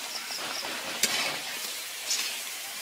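Breaded fish chops deep-fry in hot oil until brown, a steady soft sizzle near the pan with a couple of sharp metallic clinks from a utensil.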